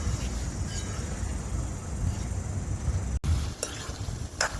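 Raw banana curry simmers and sizzles in a pan over a wood-fired chulha, a dense continuous frying hiss with low crackle and a couple of brief scraping stirs near the end, close up and steady, no voices.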